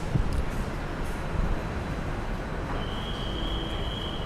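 A driverless electric train rumbles past at steady volume, and a thin high-pitched whine appears late and holds steady over the running noise.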